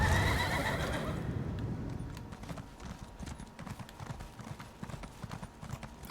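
A horse neighs loudly at the start, then hooves clip-clop in a quick steady rhythm in Elder Scrolls Online, the whinny fading as the hoofbeats continue close by.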